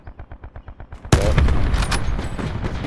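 Gunfire in Call of Duty: Black Ops 4 Blackout mode, a rapid train of about nine quick shots followed by a loud burst of heavy, sustained firing and booming impacts, close and dense.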